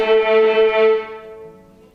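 A pitched note repeated in steady eighth notes, two articulations to each metronome click, sustained and ringing before fading away near the end.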